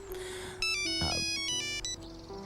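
A mobile phone ringtone chimes in a short bright electronic melody, clear and fairly close, with no talking over it.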